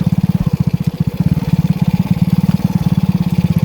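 An old, worn-out motorcycle rides a rough road on the edge of a village. Its engine chugs loud and close in a steady, fast pulsing thump with some rattling clatter over it, and no talk.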